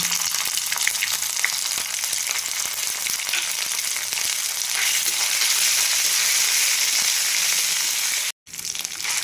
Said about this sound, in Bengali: এরপর দিয়ে দেবো এখানে অল্প পরিমাণে কালো জিরে, আর দিয়ে দেবো আদা আর কাঁচা লঙ্কা বাটা